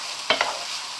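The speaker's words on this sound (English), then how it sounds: "and sizzling away quite nicely" Steady bright sizzle of vegetables browning in a pan for spiced chicken, with two quick scraping stirs near the start; no voices.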